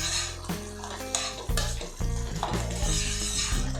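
Semolina is stirred into boiling water in a pot with a spoon scraping and clinking against the metal rhythmically, several distinct knocks over a bubbling, sizzling background, close and without talk.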